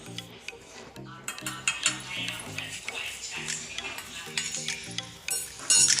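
Chopped cabbage, spinach and gram flour are mixed in a bowl, making irregular clinking, rubbing and stirring sounds over steady tonal background sound.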